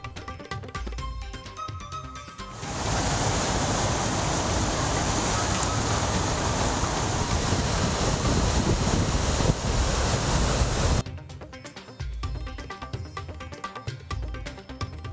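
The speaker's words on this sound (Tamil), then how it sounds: "தொடர் மழையால் குற்றால அருவிகளில் வெள்ளப்பெருக்கு" Courtallam waterfalls in flood after continuous rain, a loud, steady roar of rushing water that swells abruptly and holds for several seconds before dropping away into quieter background sound.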